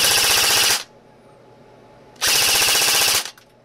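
A Silverback PP19 airsoft gun fires two full-auto bursts, each a rapid buzzing rattle of about 15 shots per second lasting under a second, separated by a short quiet pause, close and loud.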